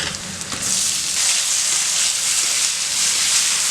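Chopped large tomato drops into onions frying in a pan, bringing an abrupt rise into a loud, steady, close hiss and sizzle, with a few light stirring knocks at the start and no voices.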